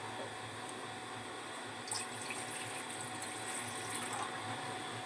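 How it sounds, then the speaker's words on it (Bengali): Water pours steadily into a cooking pot on a gas stove while a potato and egg curry is being made, a continuous close splashing rush that holds at even loudness with no voices. "এবার আমি জল দিয়ে দিলাম"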